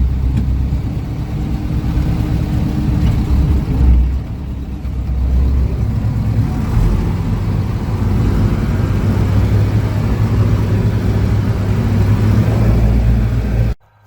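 A tractor engine running at nearly full throttle during pumpkin sowing; a loud, steady, droning roar holds continuously up close before cutting off at the very end.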